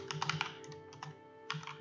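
Code is typed on a computer keyboard for game modding, with close, quick keystrokes in bursts and a short pause midway, and no one talking.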